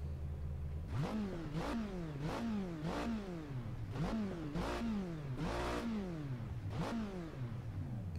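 Car engine in the video game Project Cars revving up again and again, about eight rising whines each cut off by a quick paddle-shift drop, steady and close.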